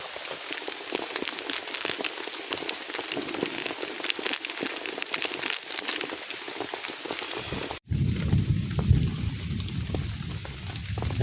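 Water in a pot heats toward a boil for coffee on a camping stove outdoors, giving a steady close hiss with fine crackling. After a brief cut, a deeper roaring rumble takes over.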